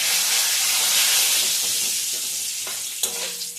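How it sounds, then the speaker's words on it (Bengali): Cumin seeds and a bay leaf sizzle in hot oil in a wok, a loud, steady hissing fry that eases slightly, with a few faint taps near the end. "এবার কড়াইতে সাদা জিরে আর তেজপাতা"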